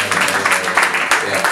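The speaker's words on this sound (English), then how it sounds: "Alright, you can give me a round of applause for that." A crowd at a music networking event gives a brief round of applause, close and loud, with a low hum underneath.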